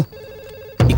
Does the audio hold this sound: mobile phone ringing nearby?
yes